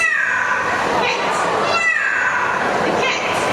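A parrot at a bird show mimics a cat's meow, producing two drawn-out, meow-like calls close to the listener amid a busy crowd backdrop.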